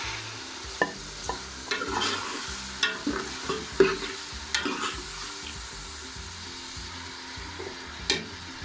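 Golden-brown onions and freshly added tomatoes fry for chicken tikka biryani, a soft steady sizzle broken by repeated scraping clicks of a spoon stirring in the pan.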